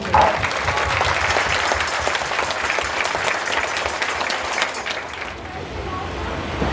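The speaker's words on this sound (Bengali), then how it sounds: "করতালি দেন।" An audience at the Raichak revival meeting with Pastor Pankaj Bhuinya claps in a dense, steady round of applause that fills most of the moment, then fades out toward the end.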